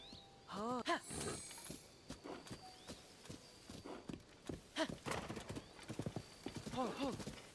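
Hooves clip-clop in a quick gallop rhythm as a horse in Zelda: Tears of the Kingdom whinnies several times, neighs rising and falling over the hoofbeats, with game sounds and vocal grunts mixed in.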